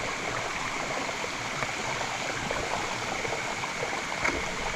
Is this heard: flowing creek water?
yes